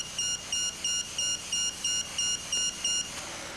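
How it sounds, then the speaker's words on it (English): The bale and wrap counter on a Silawrap 7705 round bale handler sounds its audible alarm as a steady series of about nine short, evenly spaced high electronic beeps over a quiet background. "A bale and wrap counter is also supplied as standard, complete with audible alarm."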